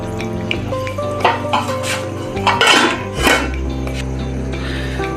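Chicken kofta curry being dished out of a handi pot, with loud metal ladle scrapes and clanks against the pot in an irregular series, over a steady low background hum.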